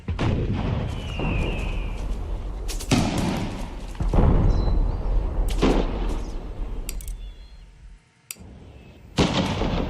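Artillery duel in Empire: Total War, with repeated booming cannon blasts and thuds spread through the scene, some sharp and loud, over a steady rumbling battle background, plus brief whistling shots.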